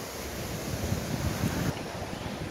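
Steady roar of the Gandahathi waterfall in Gajapati district, Odisha, a broad continuous rushing wash heard at a distance with no break, some wind buffeting the microphone, and no talk.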